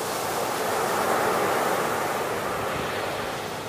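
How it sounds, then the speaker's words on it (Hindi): Fast, swollen Sutlej river water rushes past in a steady, dense roar, loud and close, with no voices over it. "ये नाज़रीन पानी का बहाव आप चेक करें कि कितना तेज़ बहाव है"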